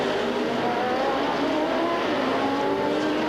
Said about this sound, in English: there is the lead car with Doc Bundy driving it